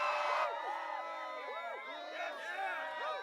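A live audience in San Diego cheers and whoops at an Impractical Jokers pre-show, many voices shouting and yelling together, lively and sustained, somewhat distant.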